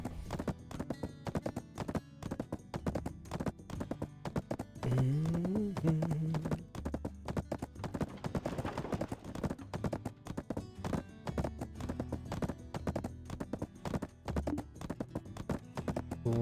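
A horse gallops in a video game, hoofbeats pounding in a fast, steady rhythm throughout, near and moderately loud, with a brief whinny-like rise partway through and no talking.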